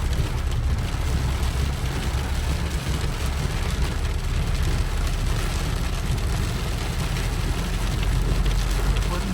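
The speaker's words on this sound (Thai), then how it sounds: "ตอนนี้ฝนยังไม่หยุดเลยนะครับ" Heavy rain pours outdoors at a forest temple in Khon Kaen, Thailand, a loud, constant roaring hiss with a low rumble that runs unbroken throughout.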